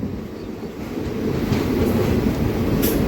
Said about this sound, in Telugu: మన ట్రైన్ అయితే ఫస్ట్ సింగపూర్ రోడ్ జంక్షన్కి అయితే ఎంటర్ అవుతుంది.